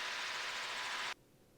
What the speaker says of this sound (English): You can kind of hear that engine too, a little high.